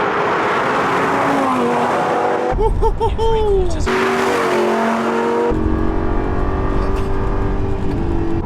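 A high-revving Lamborghini engine roars loudly, its pitch climbing and dropping through several sharp rev blips before settling into a sustained, rising drone.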